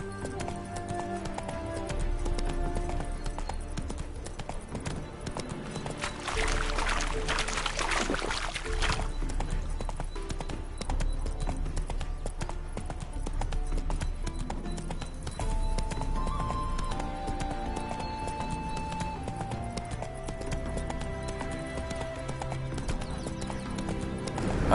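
Roach, Geralt's horse in The Witcher 3, trots with rhythmic clip-clopping hooves over a backdrop of game music and ambience, with the steady hoofbeats continuing throughout.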